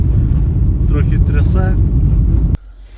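A car drives along an uncleared, packed-down winter road toward a warehouse. A loud, steady low rumble of engine and road noise runs under a voice, then cuts off sharply near the end, leaving near silence.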